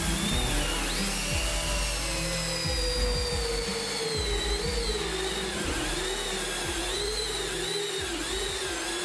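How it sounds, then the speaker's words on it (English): A power drill whines continuously and loudly as a hole saw cuts holes, the pitch wavering under load with brief dips as it bites. "Let's start drilling."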